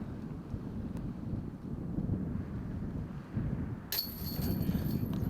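Wind on an outdoor disc golf course during the final round of a Las Vegas tournament, a steady low rumble of gusts buffeting the microphone throughout, with a brief hiss near the end.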